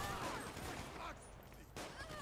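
Gunfire in the video game GTA 5 with the LSPDFR police mod during a standoff with an armed suspect, a faint, dense crackle of shots mixed with game noise, with brief gaps between bursts.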